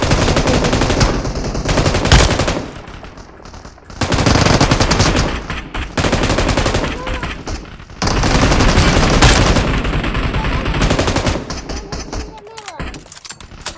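Rapid automatic gunfire from shooting enemies in the mobile battle royale game PUBG Mobile, loud bursts that run nearly nonstop with short gaps, mixed with voices talking over the action.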